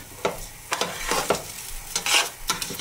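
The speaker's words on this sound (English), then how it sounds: "Now we just fry it in the heat" Rice for morog pulao fries in a hot pan while a utensil stirs it in repeated scraping strokes, a steady sizzle rising and falling with each sweep, close and fairly loud, no voices.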